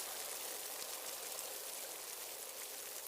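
Steady rain pattering down inside a house in a cartoon, an even, continuous hiss of drops with no voices.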